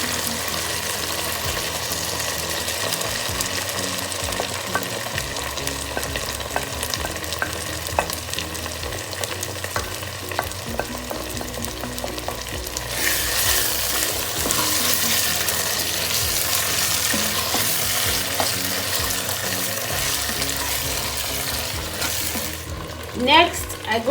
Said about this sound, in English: next thing, I'll add my onions